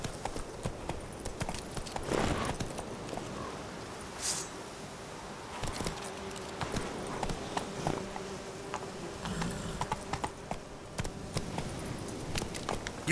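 Hooves of a horse in The Witcher video game beat along in a loose, uneven rhythm, fairly close and moderately loud, mixed with buzzing insect-like ambience and scattered clatter.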